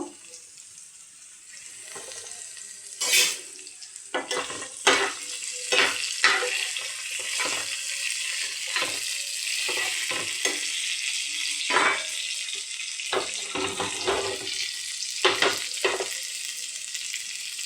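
Capsicum, onion and chopped garlic fry in a pan with a continuous bright sizzle. Repeated spatula scrapes and clinks come at an irregular rhythm, close and fairly loud.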